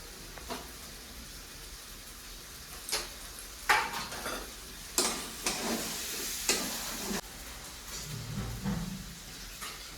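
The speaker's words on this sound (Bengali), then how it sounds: "আবার একটু নাড়িয়ে নিই।" Cabbage curry is stirred in a pan over a low sizzle, with a few sharp scraping strokes and taps of the spoon against the pan, close and quiet, no talking.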